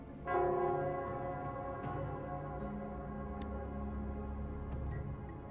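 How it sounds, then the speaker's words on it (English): Nell Square's bell in the Wuthering Waves video game strikes once and rings on with a sustained, resonant hum, while faint ticks sound in the background. "It's the Nell Square's bell."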